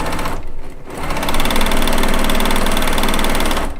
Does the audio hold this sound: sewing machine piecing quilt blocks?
yes